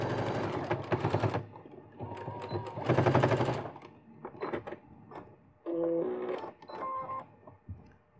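A sewing machine finishes stitching a zipper seam in fast bursts that stop and restart, close and loud, then gives way to softer handling noises and a brief whirring tone.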